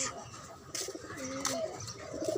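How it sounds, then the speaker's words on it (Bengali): Pigeons coo softly in a rooftop garden, with a few low, rolling calls and faint chirps from other birds at a moderate distance. "এদিকে আরও কবুতর আছে কবুতর এখানে পাখি আছে পাখি বাসার ভিতরে সুন্দর পাখি আছে"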